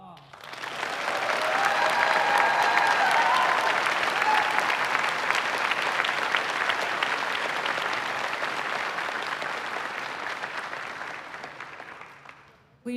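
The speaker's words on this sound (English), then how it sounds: "Give them a round of applause." Sustained applause from a large audience at a Florida Highway Patrol graduation, steady clapping that swells early and holds for several seconds before tapering off.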